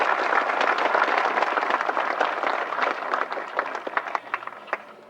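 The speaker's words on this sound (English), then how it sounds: "So let's give them a round of applause right now if we can." Outdoor crowd at a railway museum depot opening ceremony gives a round of applause, dense clapping that gradually thins to scattered individual claps as it fades out.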